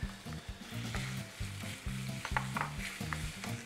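Freshly grated or cut garlic and ginger sizzle in hot oil as tempering for quinoa khichdi, a steady crackling fry with periodic stirring clatter, close and continuous, no voices.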